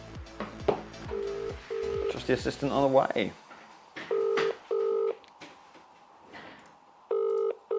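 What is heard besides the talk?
telephone call being dialled to the winner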